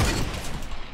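A single sharp sniper rifle shot cracks out in Fortnite: Battle Royale, a loud, close report that quickly decays into a brief rumbling tail.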